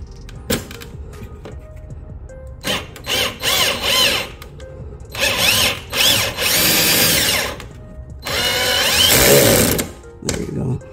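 Power tool driving screws into a carbon fiber rear diffuser on a 2022 Genesis G70, heard as several short whirring bursts and three longer sustained runs, fairly loud and close, separated by quiet pauses.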